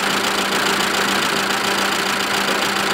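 A Mitsubishi Mirage engine runs with a clanking fault, giving a loud, steady, close idle drone that holds unchanged throughout with no voices.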